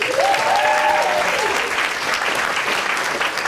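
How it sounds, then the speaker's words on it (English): An improv show audience gives a big round of applause for Jed, a dense, even burst of clapping that holds steady throughout. "Big round of applause for Jed!"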